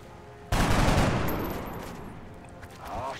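Gunfire from the turn-based strategy game XCOM: Enemy Unknown during an abduction mission: a sudden loud burst of shots that rings out and slowly decays, with a faint voice rising near the end.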